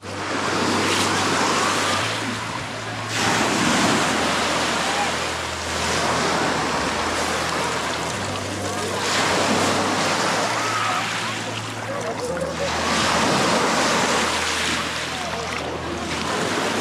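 Sea waves break on a beach on Thasos, surging in loud repeated washes every few seconds over a constant roar, with wind buffeting the microphone.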